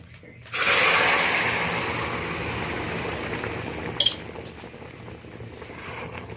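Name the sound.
curry mixture poured into a pan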